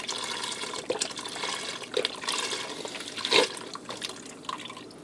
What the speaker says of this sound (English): Now I'm going to put in 4 cups of beef broth.